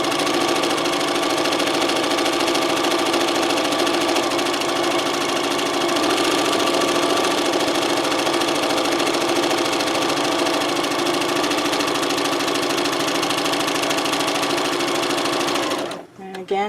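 A sewing machine runs steadily and loudly for about sixteen seconds, stitching a pillowcase seam, then stops abruptly near the end.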